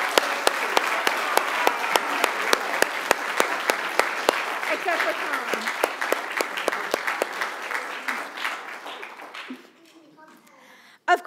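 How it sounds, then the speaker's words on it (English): A crowd applauds steadily for several seconds, clapping dense and sustained, then tapering off into quiet near the end. "giving everyone a round of applause for all that they did"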